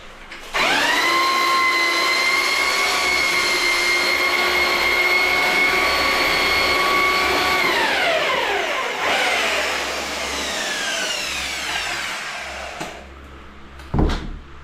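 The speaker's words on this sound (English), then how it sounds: "I've got the fan going, blowing a bit of cool air in because it's a bit warm today." An electric fan blows cool air into a warm room during bathroom floor laying, a steady close whirring hum with tonal whine that holds for several seconds, then winds down in pitch as it slows, ending with a brief knock.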